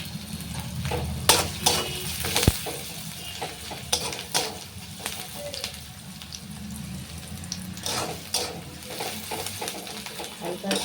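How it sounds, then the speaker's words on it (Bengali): Meat sizzles steadily in a pan while a utensil scrapes and clatters through it in irregular strokes, close up. "মাংসটা যত ভাজা হয়ে আসবে"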